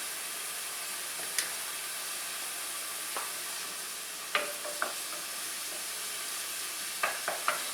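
Chopped onion sizzling in a pan, a soft steady hiss with a few sharp clicks and taps of a utensil scattered through it, no voices.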